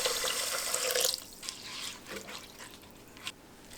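Water runs from a tap into a pot of washed rice for cooking, a loud splashing stream for about a second, then quieter trickles and drips.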